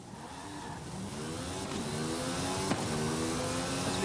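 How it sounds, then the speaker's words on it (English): A Forza Horizon 5 video game car engine climbs steadily in pitch as it accelerates, with a brief screech of tyres partway through, moderately loud and without voices. "We've now got different skid sounds based on the vehicle and the tyre size"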